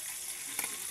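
A short burst of food sizzling in hot oil in a home pan, a continuous close crackle with a sharper spatter near the middle.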